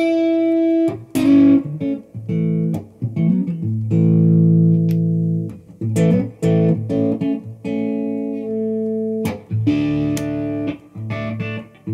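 An electric guitar through a humbucker pickup with the volume rolled slightly back plays clean chords and single notes, bright and close, in a loose strummed and picked phrase with pauses and no voices.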